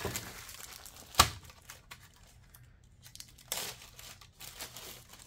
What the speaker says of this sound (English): now we'll open up the paperwork and grab what I assume would be like a paper template